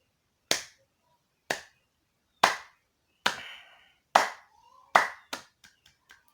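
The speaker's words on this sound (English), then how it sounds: "Clap, clap, clap." Single sharp hand claps ring out one at a time at slow, uneven intervals, about six distinct claps followed by a few quicker, softer ones, close and clear with no talking.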